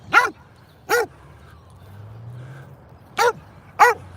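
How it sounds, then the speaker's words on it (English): A dog in a park barks four times in two pairs, sharp and close, with a quiet low rumble in the gap between them. "Stop your barking."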